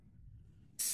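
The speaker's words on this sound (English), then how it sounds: "So how we do that is we just give it a couple of blasts" A quick blast from an aerosol can sprays sealant onto a model railway platform, a sharp hiss bursting in near the very end after quiet low background.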